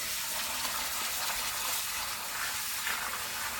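Hot tap water runs steadily over rice being washed in a bowl, a continuous close hiss and gush of filling water with no talk.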